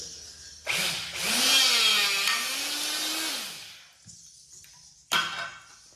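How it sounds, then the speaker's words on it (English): A power drill whines as it bores through quarter-inch-thick steel plate, pitch rising and dipping for a few seconds, then a short mechanical clunk as it stops. "Saved us a lot of time drilling right there."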